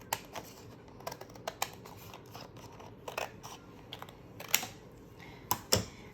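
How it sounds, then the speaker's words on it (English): Scissors snipping paper for a Halloween card, a series of quiet, close, irregular cuts and clicks. "I am going to take my scissors"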